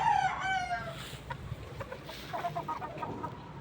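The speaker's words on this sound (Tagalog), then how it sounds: "punong-puno na ako ng mga manok dito" Chickens and roosters crowded in a Filipino pen, with a close rooster crowing at the start, then scattered clucks and squawks from several birds over steady background noise.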